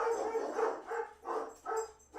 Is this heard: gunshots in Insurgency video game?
no